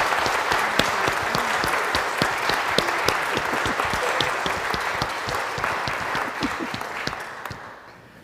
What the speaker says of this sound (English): Should we give Helen a big clap?